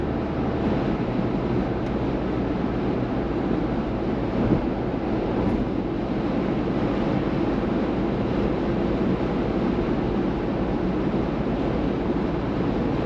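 Steady, loud broadband roar fills the cabin of a Ford Bronco at highway speed on the freeway, a constant rushing wind and road noise with no speech.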